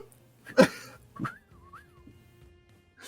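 A voice imitates an R2-D2-style robot, giving a couple of breathy puffs followed by a wavering, rising and falling whistle, faint and solo in a quiet room.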